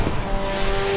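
A race car in Assetto Corsa EVO drives at speed, a steady engine tone with a sustained whine and road rumble for about a second.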